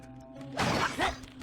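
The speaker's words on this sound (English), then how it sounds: "Maybe I shouldn't break glass" Glass shatters in the stealth video game Sly 2, a loud burst of breaking and crashing over a low steady background hum, followed by a second smaller crash moments later.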